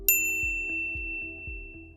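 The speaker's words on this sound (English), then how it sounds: "ring the bell to be notified about our latest videos" A single bright notification bell dings once at the start, its clear metallic tone ringing out and fading slowly over a soft rhythmic background beat.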